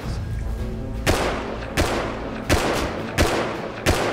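Five sharp gunshots in the video game Rust ring out at steady intervals, loud and close, with a quieter rumbling background before the first shot.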